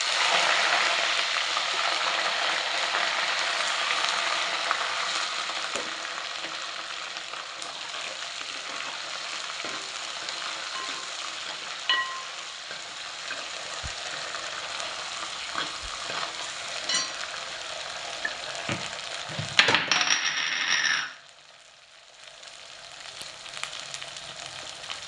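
Small onions and green chillies sizzle and fry in hot oil in a pan for a Tamil viral fish curry, a steady close crackle with occasional stirring scrapes that drops away near the end.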